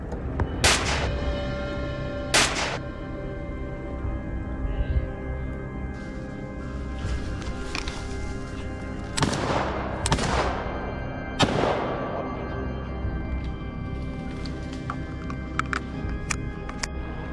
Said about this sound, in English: A gunshot startles a hog, sending it crashing through the brush to escape.